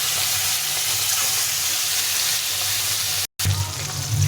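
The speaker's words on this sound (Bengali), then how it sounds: "প্রথমে ডিমগুলো ভেজে নেব, তারপরে মাছের পেটিগুলো ভেজে নেব।" Fish roe and pieces of fish belly frying in hot oil in a pan for a fish curry, a steady close sizzle with a brief dropout to silence just past three seconds before the frying resumes.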